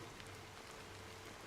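Rain falls in the video game Honkai: Star Rail, a faint, even hiss of steady rainfall with soft scattered drops and no voices.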